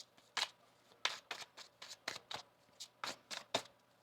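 A deck of tarot cards is shuffled close by in quick, crisp riffles and flicks, about a dozen short papery bursts in an uneven rhythm against a quiet background.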